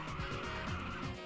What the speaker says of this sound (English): Good drift.